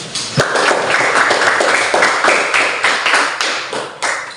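Classroom applause from a group of students, a steady wash of many hands clapping fairly close and loud, with dense overlapping claps holding for several seconds before thinning and ending, no talking over it.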